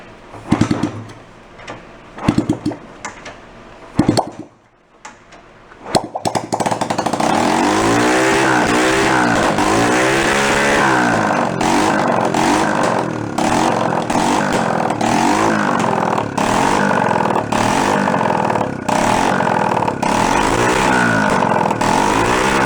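Honda Trail 90 motorcycle, sitting unused for 37 years with a rotted exhaust, sputters through a few rough attempts, then revs and holds a loud, steady running roar up close for the rest of the stretch.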